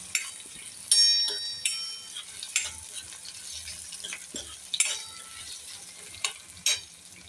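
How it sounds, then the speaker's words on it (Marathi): Finely chopped tomato sautéed in a pan for misal, soft sizzling under sharp clinks and scrapes of a spatula stirring against the pan, close, in uneven bursts. "बारीक चिरलेला टोमॅटो तो पण चांगला असा परतून घ्यायचा."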